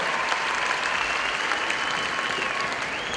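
A large arena crowd at the Horse of the Year Show claps loudly and continuously for show jumping riders after a puissance round, a thick unbroken wash of hands with faint tonal sounds running underneath.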